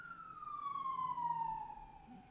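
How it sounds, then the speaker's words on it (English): An ambulance siren sweeps past outdoors, one long wailing tone falling steadily in pitch as it moves away, moderately loud with faint road rumble beneath. "Sorry, an ambulance went by."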